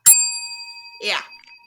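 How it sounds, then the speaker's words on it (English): A bell rings out with one sharp ding that leaves a long, pure ringing tone, then a voice speaks briefly over it. "Do you got your bell?"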